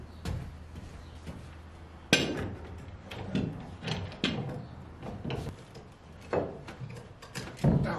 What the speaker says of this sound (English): Ich muss jetzt noch den Balken ranpressen, dass die Bretter in der hinteren Nut liegen.